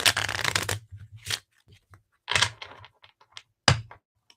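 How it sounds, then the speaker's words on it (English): Tarot cards are shuffled in a few quick riffling bursts, close and crisp, separated by soft taps and brief quiet gaps. "Shuffle one time for the last card."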